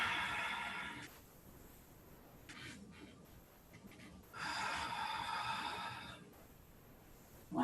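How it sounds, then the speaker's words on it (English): Deep, audible breaths close up during a guided yoga pose sequence, long airy inhales and exhales separated by short pauses, with a faint voice heard between them. "One more big breath."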